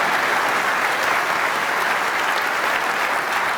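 A snooker crowd at the 2017 World Snooker Championship semi-final, Barry Hawkins against John Higgins, applauds a tough shot with steady, dense clapping that stays loud and even throughout.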